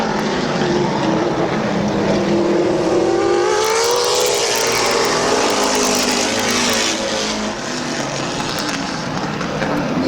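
Race cars roar around the oval at Midvale Speedway, a loud, close, sustained engine howl with rising and falling pitch as the pack sweeps off turn two, no voices over it.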